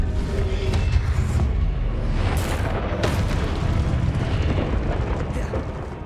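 Confringo fire spell blasts in Hogwarts Legacy, a dense, continuous roar of booming explosions and crackling bursts with sharp hits, loud and sustained throughout, with voices under the din.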